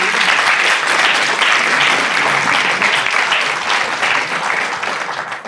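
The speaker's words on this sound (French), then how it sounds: "On peut applaudir." An audience at a panel discussion gives a sustained round of applause, dense continuous clapping from many hands that tapers slightly toward the end.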